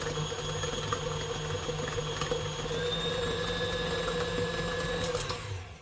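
A kitchen mixer whips strawberry cake icing until fluffy, giving a steady, close motor whir with a constant high whine and faint rattling for several seconds, with no talk.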